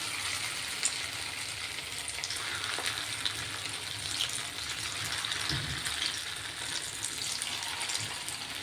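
A steady bubbling sizzle of rice and potato snacks frying in hot oil continues evenly throughout, close and moderately quiet, with no talking.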